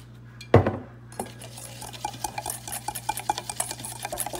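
Ingredients for ranch chicken thighs, including oil, being stirred in a bowl, a sharp knock at the start followed by a steady run of close scraping and clinking utensil strokes against the bowl.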